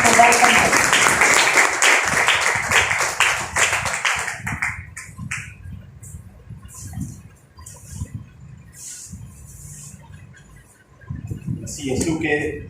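A church congregation bursts into loud, dense applause welcoming a preacher, sustained for about four seconds before thinning into scattered claps and a murmuring crowd, then swelling briefly again at the end.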